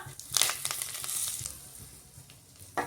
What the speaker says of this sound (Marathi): तेल छान तापलं की आपल्याला टाकून घ्यायचं आहे 1 चमचा मोहरी, 1 चमचा जिरं, अर्धा चमचा हिंग, कढीपत्ता